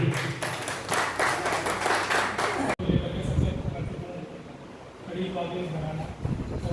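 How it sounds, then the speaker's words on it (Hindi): Clapping from a gathered audience at a Gandhi Jayanti celebration in Burari, busy and fairly close for nearly three seconds, then cutting off into outdoor rustle, low wind noise and someone speaking. "एक बार जोरदार ताली बजाकर"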